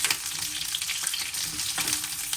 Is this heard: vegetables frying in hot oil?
yes